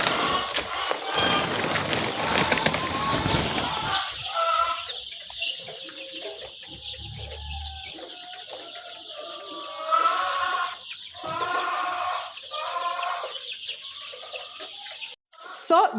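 A flock of 14-day-old chicks in a farm brooder keeps up continuous overlapping peeps and clucks, with a voice talking over them partway through.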